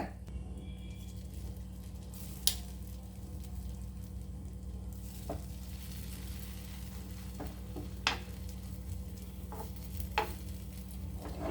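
A knob of butter melts and sizzles in a frying pan before an omelette is cooked, a steady low frying hiss with a few faint clicks and taps of utensils scattered throughout.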